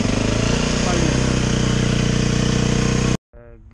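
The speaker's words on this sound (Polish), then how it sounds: "przed wymianą oleju musimy zagrzać sobie motocykl, żeby olej był rzadszy" A 2015 KTM EXC-F 250 motorcycle engine idles on choke while warming up before an oil change, a steady close pulsing putter that cuts off abruptly near the end and gives way to a brief quieter sound.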